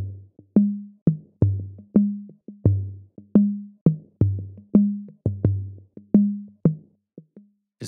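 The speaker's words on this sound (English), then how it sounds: "The next thing I added was a distortion." Electronic beat from a Maschine track run through distortion and saturation, driving kick and bass thumps with crisp transient clicks in a steady looping pattern, loud with no voices.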